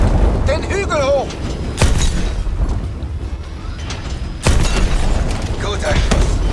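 Explosions and gunfire in the video game Call of Duty: Advanced Warfare, with heavy booming blasts and rattling shots amid battle noise, plus a synthetic voice and other in-game speech, loud and continuous.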